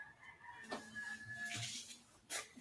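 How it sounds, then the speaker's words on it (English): Roosters crow in the distance outdoors, a couple of faint drawn-out calls and short clucks spread across a quiet rural backdrop with no speech. "Yeah, there's lots of chickens out here. Roosters. Well, you can hear those guys."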